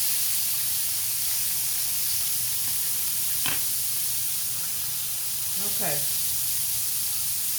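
A turkey cutlet sizzles steadily in a skillet after being flipped, a constant close hiss and crackle, with a brief spoken word and a couple of light utensil sounds.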